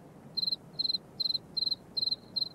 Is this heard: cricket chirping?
yes